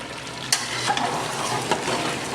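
Potatoes go into eggplant already frying in a pan for aloo baingan, a steady oily sizzle running throughout with a few sharp spoon clinks and scrapes as everything is stirred together.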